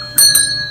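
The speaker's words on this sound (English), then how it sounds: "Ring the doorbell." A doorbell rings with two quick bright chimes, loud and close, whose ringing tones linger and fade gently.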